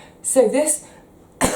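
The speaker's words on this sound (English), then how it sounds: "cue cough" A person speaks briefly, then after a short pause a single sharp, harsh cough bursts out close by at the end.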